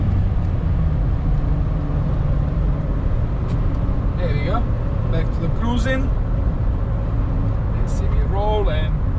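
Nissan Patrol 4800 VTC Super Safari cruising on a highway, a steady loud engine and road drone filling the cabin throughout, with a voice speaking briefly in the middle and near the end.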